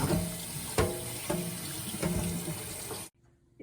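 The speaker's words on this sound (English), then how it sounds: "put your apples in, and just run some water all through it" Tap water runs over apples in a colander in a kitchen sink for homemade applesauce, a steady close rushing splash that lasts about three seconds and then cuts off to silence.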